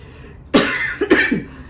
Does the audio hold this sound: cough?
yes